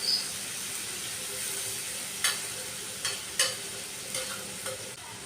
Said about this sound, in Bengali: মশলাটা এখন আমি কষিয়ে নেব